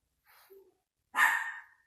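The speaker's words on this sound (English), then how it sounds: "It's my dog barking there." A pet dog makes a soft breathy sound, then after a short pause lets out one loud, sharp bark close by in a quiet indoor room.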